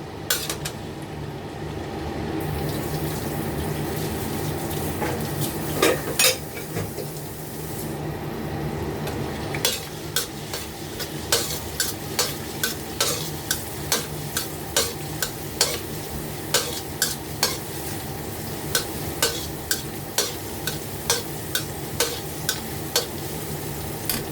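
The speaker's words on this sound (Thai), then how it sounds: "ผัดให้หอมเลยนะคะ" Morning glory stir-fried with chili and garlic in a pan: continuous sizzling with steady scraping and stirring, and a fast regular run of spatula clacks against the pan through the second half.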